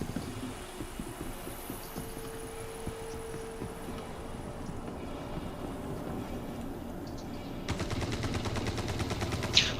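Rapid gunfire from a firefight in the space game Star Citizen: Squadron 42, a steady stream of shots with a busy rattle that grows louder and denser near the end.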